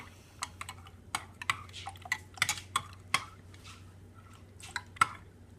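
A spoon stirs yogurt in a container, giving quiet, irregular taps and scrapes spaced over several seconds, close by with no talk.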